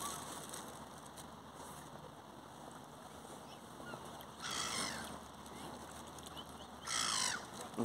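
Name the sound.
seagulls calling while being fed bread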